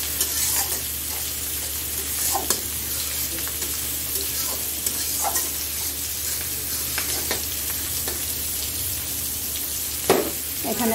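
Onions sizzle steadily in hot oil in a home kitchen while a Bengali hilsa fish curry is prepared, a continuous close frying hiss with occasional stirring clinks and scrapes and no talk.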